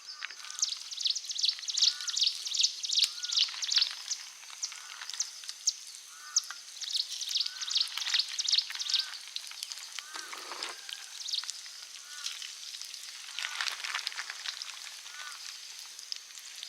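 Ingredients being dropped into heated oil to make karumbula herbal hair oil for grey hair. Bright, crackling sizzle comes in fluttering, bubbling waves, fairly close and moderately loud, with little else heard.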